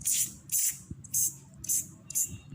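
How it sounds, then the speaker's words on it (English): Weedicide sprayed over a model crop field made for a school science exhibit, five short hissing bursts from a small hand sprayer at an even pace, each close by and separated by brief pauses. "We can control these weeds by spraying the weedicides."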